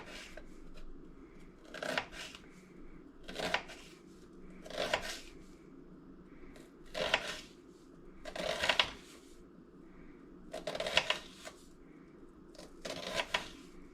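A knife cuts food into julienne strips for burgers, giving steady, evenly spaced crisp chops on a board, each a short burst, about every second and a half.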